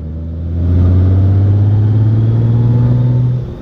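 A Honda Gold Wing 1800 DCT, a 2021 model, sends out its flat-six engine note as a steady, deep, smooth drone that swells over the first half-second and holds loud and close before easing off at the end.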